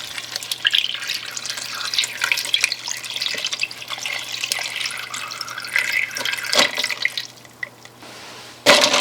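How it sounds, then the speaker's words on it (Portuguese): Water runs from a tap into a bowl of ice in a kitchen, a steady splashing trickle with small drips and clinks, close by, ending with a sharper burst of splashing. "Abasteça a vasilha com água pelo menos até os gelos ficarem boiando."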